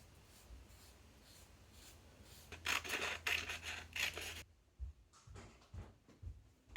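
Scissors snip and rasp through a fabric jacket collar, a burst of close cutting strokes in a quiet room, followed by a few scattered handling rustles.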